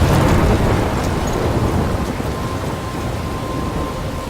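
A thunderstorm in the video game Life is Strange, with steady rain and a low rumbling wash that holds loud and constant throughout, no talking.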